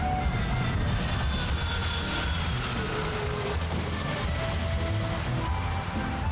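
A cargo airplane carrying matsutake mushrooms out of Tibet makes a loud, steady engine drone that holds throughout with no break.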